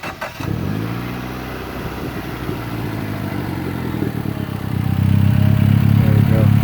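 A Mitsubishi Evo X with a beefier hose cranks and fires up close by, the starter whirring briefly before the engine catches into a steady, loud idle that swells into a heavier, throatier rumble near the end.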